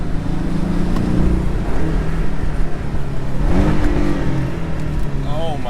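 A Porsche engine roars and revs in a loud, continuous drone heard from inside the car, with excited voices talking over it.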